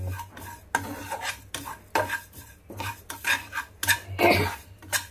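Sesame seeds dry-roasting in a pan for gongura chutney, with rhythmic scraping and rattling strokes of a metal spoon against the pan, close and fairly quiet, with a faint low hum underneath.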